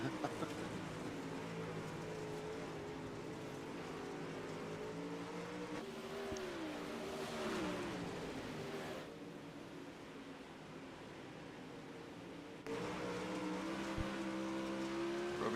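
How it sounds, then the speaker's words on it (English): Race car engines drone through a race, a steady loud mechanical hum with rising and falling whines as cars accelerate, brake and shift, the pitch sweeping around the middle and the tone changing abruptly a few times. "Melbourne got that race car up into the race lead past Grady Ehrman there"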